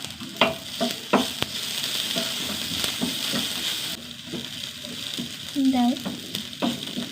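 Small shallots sautéing in a pan, a steady sizzle with repeated clinks and scrapes of a spoon stirring, fairly close and continuous throughout.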